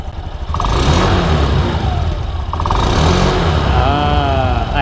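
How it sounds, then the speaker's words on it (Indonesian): A 2022 Honda Beat 110cc scooter engine revs repeatedly through its exhaust, rising and falling in loud, close bursts with a steady mechanical drone between them. "Bahagian exhaust ni bersama. Bunyi dia ni bagi saya memang slow lah, memang smooth lah."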